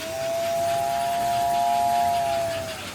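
American Flyer toy train whistle on a small layout, one sustained steady whistle tone lasting over two seconds with a soft steam-like hiss, close and fairly loud, no talking.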